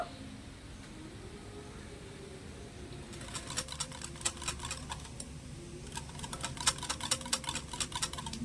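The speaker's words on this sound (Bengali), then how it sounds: "এবার আমি আরেকটা ভালো করে মিশিয়ে নেব" Dosa batter stirred in a bowl, first a quiet background hum and then a run of light, rapid ticking taps from a spoon against the bowl in an uneven rhythm, close and soft.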